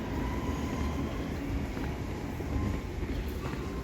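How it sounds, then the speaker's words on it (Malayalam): A Dubai Metro train at Oud Metha station gives a steady, dense low rumble with a faint whine above it, fairly close and constant throughout, with no clear voices. "ഞാൻ ഊദ്മേത മെട്രോ ഇറങ്ങി കേട്ടോ"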